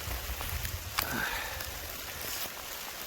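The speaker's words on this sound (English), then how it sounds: "I don't think it's going to rain very long though." Steady rain falls outdoors at a camping spot by a truck, a continuous close wash of drops with a few sharper spatters, loud and unbroken throughout.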